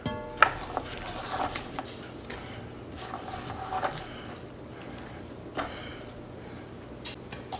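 Chopped ingredients for smoked beef stroganoff are scraped and dropped into a pot, a run of soft knocks, clatters and light taps at close range, with no talking.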